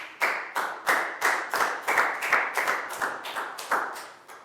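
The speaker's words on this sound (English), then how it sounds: "Big round of applause for Pak Bung," A Year 4 science classroom gives a round of applause: about a dozen sharp, evenly spaced hand claps in a steady rhythm, close and clear, with no talking over them.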